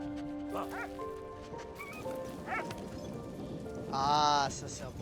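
A dog yips and whimpers in short bursts over a steady background in the video game Soldats Inconnus: Mémoires de la Grande Guerre, with a brief higher whine near the end; no clear talking.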